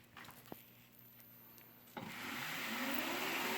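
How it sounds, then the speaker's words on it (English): A floor polishing machine fitted with a 3000 grit pad works a quartzite tile, starting with light scraping and then swelling after about two seconds into a loud, steady whirring grind that rises slowly in pitch. "We're gonna pick that tile right here, which has a 3000 grit on it, and we will be polishing it with the friction."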